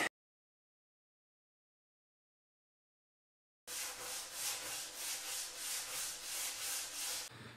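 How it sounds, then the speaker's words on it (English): After several seconds of silence, rhythmic back-and-forth sanding of a maple hardwood table top begins, close and loud, with regular strokes repeating until near the end. "Let's get sanding."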